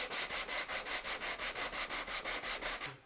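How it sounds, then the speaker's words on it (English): Faux wood beam being sanded to fit with an orbital sander or sanding block, giving about fifteen even back-and-forth rubbing strokes in a steady rhythm, close and fairly loud, with no voices. "This can be done with an orbital sander or a sanding block."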